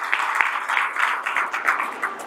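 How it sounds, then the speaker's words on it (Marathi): Audience applause fills a religious satsang and granthatula ceremony, steady rippling clapping from a sizable crowd that swells in brief waves over about two seconds with no talking. "एकदा जोरात टाळ्या म्हणल्या पाहिजे."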